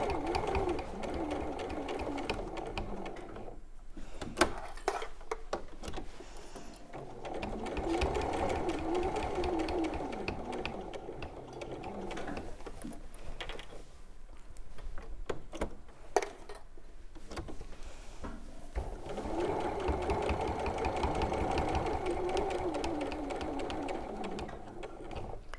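A sewing machine stitches fabric in three bursts, pausing between runs with the needle down, then doing a short reverse; quiet handling noises fill the gaps.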